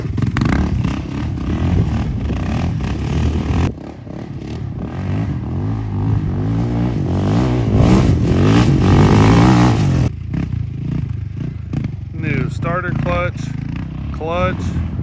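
A Yamaha Raptor 660R ATV after a rebuild of its clutch, one-way bearing, starter, battery and carburetor, its engine running steadily and revving up and down, loud and close, with people talking over it.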